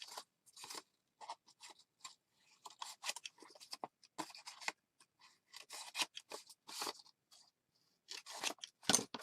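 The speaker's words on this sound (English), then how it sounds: "I am going to go ahead and cut across the corner here" Scissors cut across the corner of a paper page for a junk journal, producing a series of short, crisp snips and crunches in irregular bursts, close and quiet against silence.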